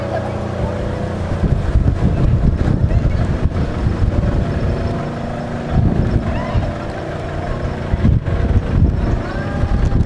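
Strong wind roars and buffets the microphone steadily throughout at a high open park in Tagaytay, with low rumbling gusts swelling and easing; voices occasionally come through underneath.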